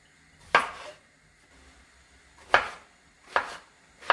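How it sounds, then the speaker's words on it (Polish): A knife chops zucchini into large pieces on a cutting board, three sharp separate cuts spaced out with quiet pauses between them, close and clear with no voices. "przechodzimy do pokrojenia cukinii. Kroję ją w większe kawałki."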